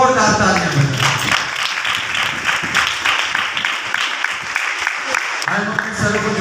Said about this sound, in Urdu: آج مقدس کلام کے لیے زوردار تالیاں بجائیں